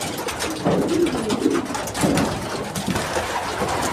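Pigeons cooing in a desert camp among sheep, cows, camels and chickens, heard as soft low repeated coos over a continuous busy background of other bird calls and outdoor noise.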